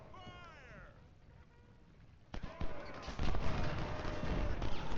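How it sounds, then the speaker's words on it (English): Revolver fire in Ultimate General Civil War, a Civil War battle game: a sharp crack cuts in midway after quieter ambient sound, followed by a dense, loud rattle of overlapping gunshots and battle noise that continues to the end. "we're just opening up with our revolver, trying to get them to rout"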